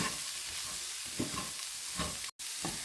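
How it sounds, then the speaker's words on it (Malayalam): A beans and carrot thoran is being mixed in a pan, with a dense, steady hiss of frying and soft scraping strokes of stirring. The sound cuts out briefly near the end. "നമുക്കെല്ലാം കൂടി നന്നായിട്ടൊന്ന് മിക്സ് ചെയ്തെടുക്കാം."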